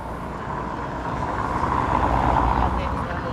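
Cars passing on a noisy road in Paguera, Mallorca, a continuous broadband rumble of traffic swelling slightly as vehicles go by, with a person talking over it.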